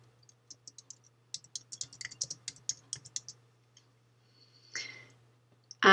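Quick bursts of clicky computer keystrokes tap out text in an otherwise quiet room, a few scattered presses followed by a rapid run of typing and a final louder click.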